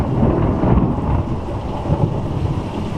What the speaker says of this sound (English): I'm up on the hill and underneath my porch during a lightning storm.